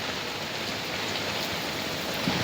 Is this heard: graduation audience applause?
no